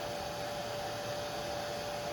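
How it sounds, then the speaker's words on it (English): A blow dryer runs on a low setting to dry a silk screen transfer on an apron, a close, steady whooshing drone with a faint even whine, heard on its own with no talking. "just do your blow dryer on low"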